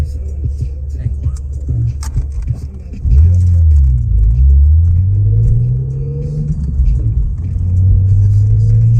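A car engine rumbles low and steady while driving, swelling into a louder, wavering drone partway through as the vehicle accelerates, close by, with voices faintly mixed in.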